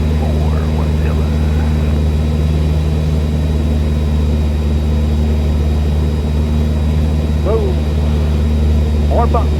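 A Cessna Skyhawk light aircraft in flight, heard from inside the cabin as a loud, constant propeller and engine drone, with faint brief voices breaking through the steady hum.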